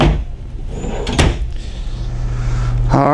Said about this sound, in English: Notice the top ones pull out farther because they're more under the cabinet.